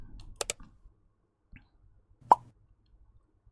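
A few sharp computer mouse clicks in a quiet room, one pair close together near the start and a single louder click later, with light handling noise between.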